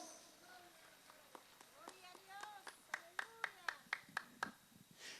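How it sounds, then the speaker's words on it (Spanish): A church congregation at a Quechua-language sermon in Churcampa claps hands in a quickening rhythmic run of sharp claps while a voice speaks over them. "dale palmas a Jesús"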